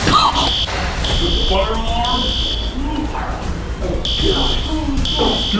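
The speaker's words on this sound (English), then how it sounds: "That's the fire alarm." A loud, continuous electronic fire alarm blares with a steady high-pitched tone that pulses on and off, while people talk and shout underneath it.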